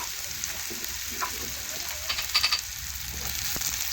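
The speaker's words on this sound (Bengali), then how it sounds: "পেঁয়াজে একটু নাড়াচাড়া করে তেলের সাথে ভেজে নেব" Chopped onion fries in hot oil with cumin while being turned over in the pan. A soft, continuous sizzle hisses close by, with a few light clinks and scrapes of stirring in the middle.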